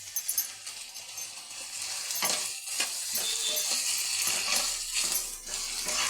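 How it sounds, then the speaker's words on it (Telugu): Crushed garlic and curry leaves fry in hot tempering oil, a busy crackling sizzle with scattered clinks and stirring knocks against the pan, close and fairly loud, no talking. "ఇవన్నీ బాగా వేగాలండి."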